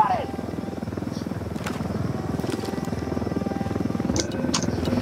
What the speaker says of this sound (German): Hubschrauber kommt.